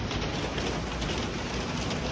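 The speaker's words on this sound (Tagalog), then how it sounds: "It's raining in Manila." Steady rain pours down outdoors in Manila, making a dense, continuous hiss that stays even and fairly loud throughout with no breaks.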